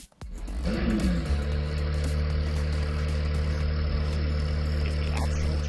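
A 2017-or-later Acura NSX fitted with a JB4 tuning box cranks and fires up, then settles into a smooth, steady idle with a deep, even engine hum.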